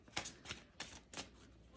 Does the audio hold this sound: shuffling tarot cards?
yes